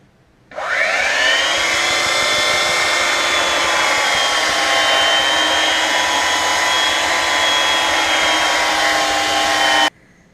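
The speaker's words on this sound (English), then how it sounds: "I've sanded this now with the orbital sander." An orbital sander works across a mappa burl tabletop, starting abruptly and running as a loud, even, airy whir that holds steady for about nine seconds before stopping.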